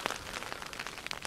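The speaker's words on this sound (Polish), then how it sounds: "aż ten deszcz przestanie padać" Rain falling on a camping tent in Norway, a dense, quiet patter of drops tapping the fabric in an even stream with no voices.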